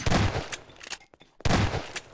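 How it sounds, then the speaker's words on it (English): Bursts of rapid gunfire in Garry's Mod DarkRP, loud and close, two dense volleys split by a short pause with a few faint pops. "I'm currently shooting at a horse."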